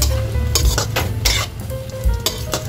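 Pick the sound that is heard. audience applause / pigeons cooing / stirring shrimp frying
stirring shrimp frying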